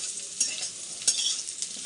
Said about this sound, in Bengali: প্রথমে আলুটাকে ভেজে নিচ্ছি